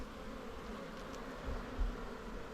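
Honey bees hum and buzz steadily around a hive in an apiary, a continuous mid-level drone with no pauses, with a couple of soft low thumps near the end and no talking.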